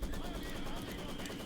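Maxim machine gun fire in the video game Company of Heroes 2 rattles in a steady, dense stream of rapid shots throughout a short stretch, with a commentator's voice faintly present.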